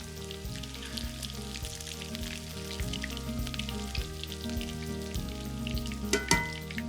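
Catfish fillets frying in hot oil in a pan, a steady loud crackling sizzle with dense popping throughout, and a brief clatter near the end as the fish is flipped.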